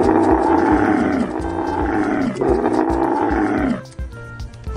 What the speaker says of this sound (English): And the next one we have a tiger, which is the big member of wild cat